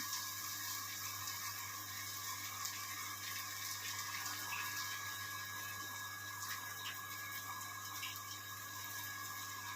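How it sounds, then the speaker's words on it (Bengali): A water pump hums steadily in a home kitchen, a constant low drone with faint rushing water layered over it, distant and quiet, running unbroken and alone. "আমার ভিডিও দেখাকালীন অনেক কিছু আওয়াজ পাবেন, পাম্প চলছে যেমন এখন"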